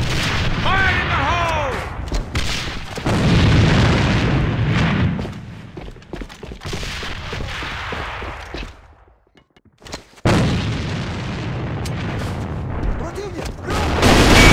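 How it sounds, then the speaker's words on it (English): Explosions and gunfire in the online shooter game AVA, with heavy booms and bursts of shots mixed under excited voices calling out, and a brief lull before the loud action resumes. "It's an enemy grenade! Grenade straight ahead!"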